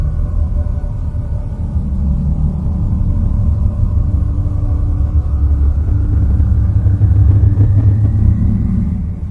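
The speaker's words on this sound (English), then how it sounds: "As for electromagnetic frequencies, however, Uranus itself sounds like this." Radio emissions from the planet Uranus converted into sound: a loud, continuous low rumbling drone that holds steady and swells slightly toward the end, with no other sounds.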